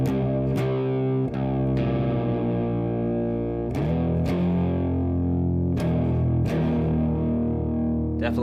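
Electric guitar played straight into a Model T amp with no pedals, a loud, steady distorted tone with sustained chords, several sharp strummed attacks and a natural decaying ring.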